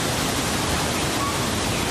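Rainbow Falls in Yosemite National Park, a very tall waterfall with modest flow blown into a mist by wind, gives a steady, dense, hissing roar that stays even and unbroken throughout.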